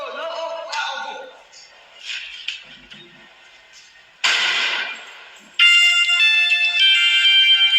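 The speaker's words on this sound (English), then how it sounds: "So the phone where they are recording with started ringing" A phone starts ringing while a recording is being made, with bright, repeating electronic ringtone tones. The ringing gets louder partway through and keeps going steadily at the end, over a muffled background.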